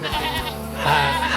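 A goat bleats twice, loud and close, at an Eid al-Adha sacrifice held by a neighbourhood community, the second wavering call longer than the first.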